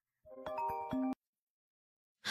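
A mobile phone rings with an incoming call: a bright melodic ringtone phrase of several chiming notes lasting about a second, then silence before the tune starts again, close and clear with no talk.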